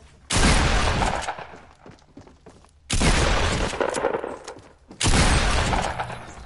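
Three loud, broadband gunshot blasts from the Fortnite Battle Royale video game, spaced about two and a half seconds apart, each with a sharp onset and a decaying tail, heard alone without talk.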